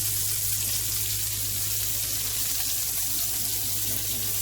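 Salisbury steak sauce simmering in a pan as its water cooks off, a steady close hiss and crackling sizzle that holds even from start to finish with no talking.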